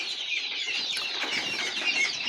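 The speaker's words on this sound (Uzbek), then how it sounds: "Andijon qora jo'jalarimiz." A flock of young Andijan black chicks, about forty days old, chirps in a constant, high-pitched, overlapping cheeping, close by and without any voices.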